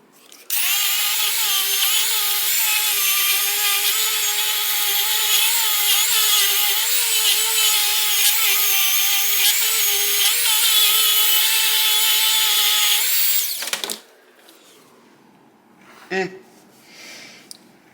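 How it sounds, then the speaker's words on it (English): A Dremel fitted with a light wire wheel strips rust from a part of a 1978 Kawasaki KZ1000 Z1R, making a loud, close, high whirring grind for about thirteen seconds before it cuts off, followed by a few faint handling noises. "Let's see if the Dremel can do anything. Very, very light wire wheel."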